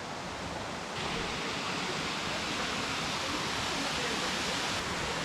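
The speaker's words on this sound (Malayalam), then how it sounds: "വേശ്പഡാം വാട്ടർഫാൾസ്." Wei Sawdong waterfalls in Meghalaya pour with a steady, dense roar of rushing water that swells slightly after the first second and then holds constant and close.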